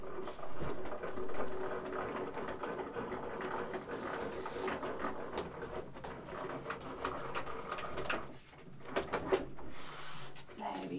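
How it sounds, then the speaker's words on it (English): Cardstock on a rubber mat under a white plate rolls through a crafting machine: a steady grinding, clicking hum of gears that runs for about eleven seconds, with a few sharper clacks near the end. "I've got my rubber mat, and then I've got my white plate on the top. So I'm just going to run this through the machine."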